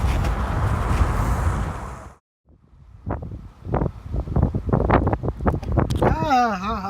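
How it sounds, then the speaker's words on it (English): Strong outdoor wind buffeting a camera microphone in heavy rumbling gusts, cutting out abruptly after two seconds, then followed by thumps and handling noise with a voice at the very end. "Wind blew my camera over."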